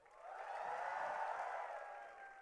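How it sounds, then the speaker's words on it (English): An audience at an IIT Bombay E-Cell E-Summit event cheers and applauds in a soft, distant swell that builds, holds steady and then fades slightly over a couple of seconds. "So give them a big cheer again."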